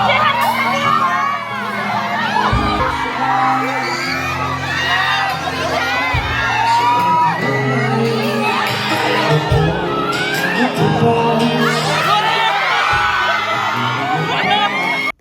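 Dense concert crowd at a show in Calgary, Canada, shouting, whooping and cheering continuously and loudly throughout, with high excited yells layered over a steady roar of voices.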